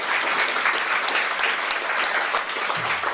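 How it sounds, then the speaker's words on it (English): Audience applause fills a public talk event, steady and full throughout, with no voices above it. "Can we give all of them a round of applause as well?"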